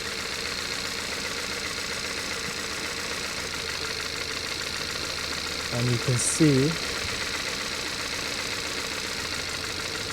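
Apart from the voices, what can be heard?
car engine idling and misfiring with spark plug lead removed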